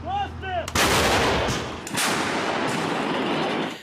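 A 155 mm Bohdana self-propelled howitzer fires twice, each shot a loud, sharp blast followed by a long rumbling roar, after a brief high whine at the start.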